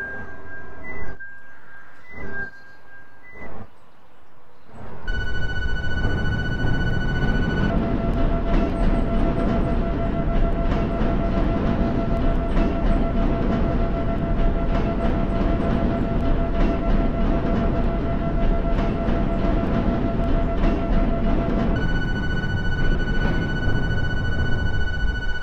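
A Chicago L Blue Line 7000-series train on the Douglas branch in Roblox: a few chime tones, then a loud continuous rumbling roar with steady tonal whine as it departs and runs, holding level to the end.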